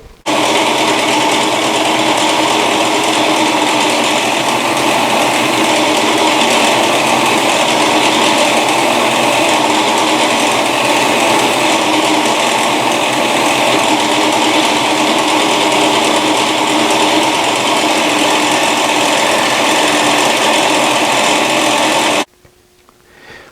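A power tool tapers wooden legs for a white work table, a loud steady high-pitched whine running continuously for about 22 seconds before cutting off abruptly, with no talking.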